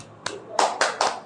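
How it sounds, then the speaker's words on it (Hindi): A few students clap for a classmate in a classroom, four short bursts of hand claps, the last three close together, fairly near. "जोरदार तालियां हो जाए मिस्टर अमित के लिए।"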